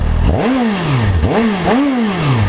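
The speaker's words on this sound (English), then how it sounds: "this is a stock exhaust, stock bike" A nearly new 2015 Suzuki GSX-S750 with its stock exhaust revs up sharply three times in quick succession, each rise falling back toward idle, loud and close.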